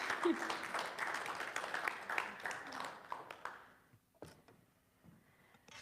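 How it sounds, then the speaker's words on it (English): Church congregation at a gratitude service claps in a fairly soft round of applause that thins out midway into scattered last claps and a few faint sounds. "Let's give them a round of applause"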